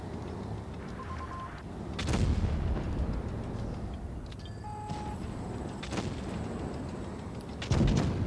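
Tank cannon fire and battlefield rumble in the World of Tanks Blitz video game, with two sharp booming shots several seconds apart over a steady engine drone.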